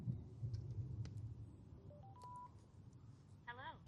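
A Sena 5S motorcycle headset powers on and pairs, giving a rising sequence of short electronic beeps followed by a quick warbling chime, quiet under a low background hum.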